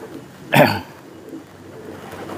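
A single short coo from an Indonesian high-flying pigeon, close and fairly loud, stands out against a quiet background hum.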